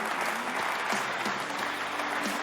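A studio audience applauds a guest on an Italian sports TV programme, a steady, dense wash of clapping that holds at an even level throughout.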